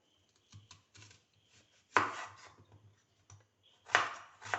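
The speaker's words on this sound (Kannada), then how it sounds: "ಈಗ ನಾನೊಂದು ಈರುಳ್ಳಿ ತಗೊಂಡಿದ್ದೇನೆ, ಮೀಡಿಯಂ ಗಾತ್ರದ ಈರುಳ್ಳಿ ತಗೊಂಡಿದ್ದೇನೆ. ಇದನ್ನು ಕೂಡ ಕಟ್ ಮಾಡ್ಕೊಳ್ಬೇಕಾಗ್ತದೆ." Knife cutting a medium-sized onion on a board, a few soft taps followed by two sharper chopping strikes, close and isolated without talk.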